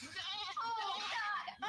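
A goat bleat sound clip plays back in a wavering, nasal, quavering cry that lasts over a second, loud and close.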